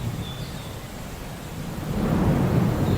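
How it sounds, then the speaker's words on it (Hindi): Low rolling thunder rumbles beneath a steady hiss of light rain under dense clouds near Balakot, swelling louder in the last second, with no talk. "इतने डेंस बादल आ गए हैं और हल्की हल्की सी बारिश भी पड़नी शुरू हो गई है"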